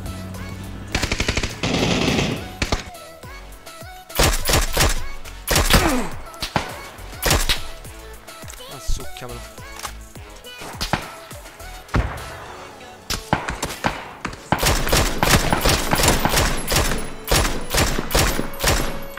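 Loud bursts of rapid gunfire and single shots from a video game, coming in clustered volleys with brief pauses between them.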